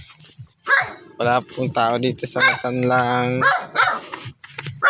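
A dog barks repeatedly and growls close by, loud and agitated, while someone speaks over it.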